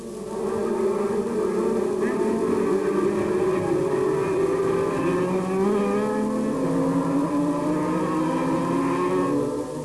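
250cc racing motorcycles scream past together on the Mondello Park circuit, a dense layered engine whine that holds steady and rises and falls through gear changes for the whole stretch, loud and continuous.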